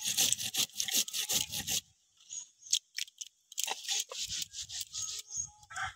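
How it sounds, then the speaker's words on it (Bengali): Garlic, green chili, cumin and poppy seeds ground together into a paste, giving close, loud rhythmic scraping and rubbing strokes with a short pause in the middle before the grinding resumes. "এবার এগুলো সব একসঙ্গে ভালো করে বেটে নেব।"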